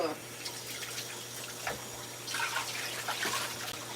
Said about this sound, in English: Now we're going to top this off with some water.